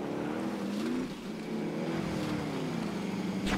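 Motorbike engine in the video game Call of Duty Warzone, a steady close revving drone with shifting pitch that carries through the whole stretch without speech.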